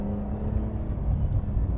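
A car fitted with a sports exhaust is driven hard, giving off a steady, deep engine drone heard up close without any speech.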